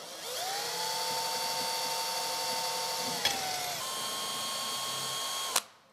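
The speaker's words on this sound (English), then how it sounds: "And gently drill through." High-pitched whine of a power drill boring overhead through a metal panel of a VW Crafter van, steady and close, with a brief pitch shift midway before it stops abruptly.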